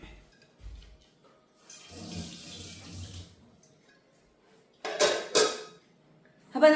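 Running tap water splashes into a kitchen sink as dishes are rinsed after serving fish curry, a soft wash midway followed by two louder bursts of water near the end.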